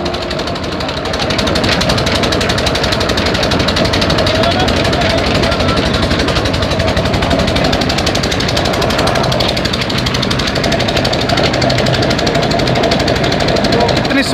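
Cement discharges from rotating machinery at a concrete factory, a loud, steady grinding and rumbling churn that runs without pause for the whole stretch, close and dense with a brief shift in tone partway through.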